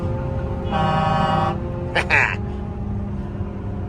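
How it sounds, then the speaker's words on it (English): A loud, harmonic train horn fitted on a truck blasts for about a second, followed by a short second honk, over a steady engine rumble and nearby voices. "it's got these nice, gnarly train horns"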